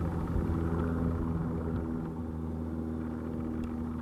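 Air Canada Boeing 787-9 jet taking off from Montreal's runway 24 right, a steady loud engine rumble with broad low roar and hum, continuous and even throughout without any talk.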